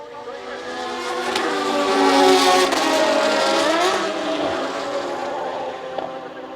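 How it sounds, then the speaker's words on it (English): Formula BOSS Ireland racing cars at Bishopscourt revving hard and accelerating away from a race start, a dense, loud roar of several engines with rising pitch sweeping past. "And their revs are rising."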